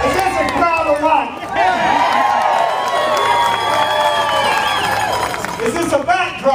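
A large crowd at an election eve rally on courthouse steps cheers and claps loudly and continuously, with shouts and whoops rising from the mass, close and sustained.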